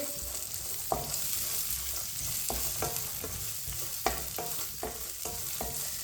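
Vermicelli and dry fruits roasting in a pan for sweet milk seviyan, stirred with a spoon: a soft continuous sizzle with repeated light scrapes and clicks of the spoon against the pan, close up.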